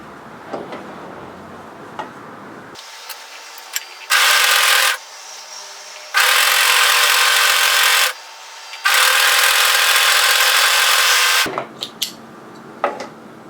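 Overlocker stitching the long curved edge of a hoodie hood in three separate loud bursts, each a steady high-pitched mechanical whir of a couple of seconds, with quieter handling rustles in the pauses between runs.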